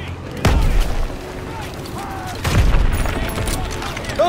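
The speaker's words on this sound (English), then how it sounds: "Grenade out!" Heavy booms from a grenade blast and gunfire ring out in the World War II video game Call of Duty: WW2, two loud low thumps with rumbling echo amid battle noise and shouting.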